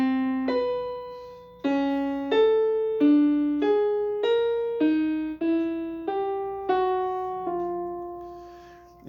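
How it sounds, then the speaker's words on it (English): A single plucked or struck instrument plays a slow, angular chromatic melody, about a dozen separate notes each ringing and decaying, alone and clear. "And so a serialist chromatic melody might sound something like this."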